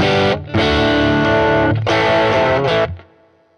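Electric guitar with humbucker pickups, played on the neck pickup through a Vox Mini Superbeetle amp, gives loud distorted chords: two sustained strummed stretches split by a short gap, then a final ringing chord that decays.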